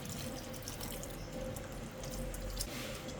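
A continuous, close splash of water pours into a pot of pork adobo, a steady hissing gush with no pauses throughout.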